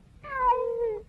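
A cat stuck up high and unable to climb down lets out one clear, drawn-out meow lasting about a second, close and fairly loud against a quiet background.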